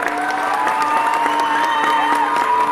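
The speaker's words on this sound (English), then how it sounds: "Come on, let's keep clapping for all of them." Audience clapping and cheering for children after a pirate dance performance, steady rhythmic claps with scattered whoops over a sustained tonal background, close and fairly loud.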